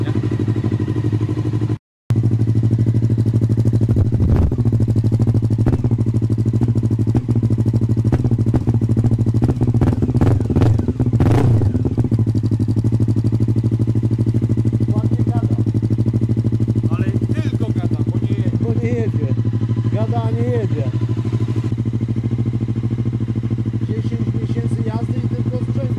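A motorcycle engine with unsynchronized carburetors idles unevenly, a steady low running note broken by clattering bursts and blips, while people talk close by throughout.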